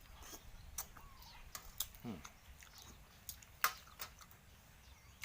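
Quiet, close chewing and mouth clicks while eating mok khi pla, a Thai steamed fish dish, with soft irregular smacks spread across a faint, noisy background.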